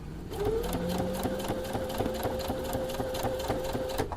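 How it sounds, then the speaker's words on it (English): A sewing machine whirs continuously at an even pace, stitching binding onto a quilt with a quarter-inch seam, close and clear with no talking. "I'm going to start at the triangular portion tip of that and sew toward the tunnel"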